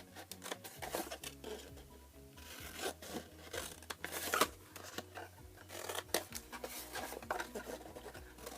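Card pieces for a flip-top box holding three Easter eggs being cut, with quiet repeated snips and rustling of the card, faint and close, with no talking.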